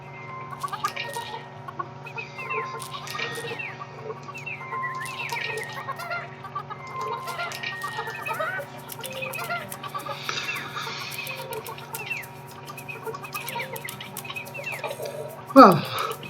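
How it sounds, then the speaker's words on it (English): Chickens clucking in the adventure game Burly Men At Sea, busy repeated clucks and chirps over a soft sustained musical drone, with a voice speaking in the background and a sharp sliding sound near the end. "Well, those are certainly busy chickens."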